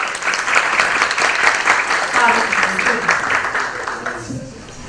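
Dense, steady applause from an audience at a Children's Rights Day program, greeting a hospital group's operations director, carrying on evenly before easing off near the end.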